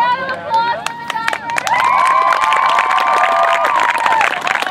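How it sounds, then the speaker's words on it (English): A crowd at a 2013 Penguin Plunge cold-water charity dip cheers and claps for the divers, with loud shouts and sustained high whoops over scattered applause close by. "Can we have a round of applause for the"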